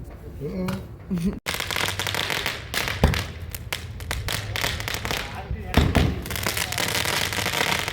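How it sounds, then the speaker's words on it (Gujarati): Sharp firecracker bangs burst irregularly on a rooftop during an Uttarayan kite festival celebration, over a steady crackling, noisy background, with voices talking throughout. "હમણાં હું તમને ફટાકડા ફૂટી બતાવું"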